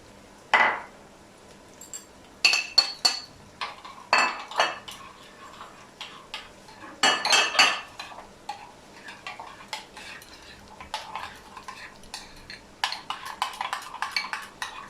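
Spoon stirring and scraping yogurt with lemon juice and powdered spices in a bowl, heard as intermittent clinking, scraping bursts with quiet gaps, close and moderately loud with no talking.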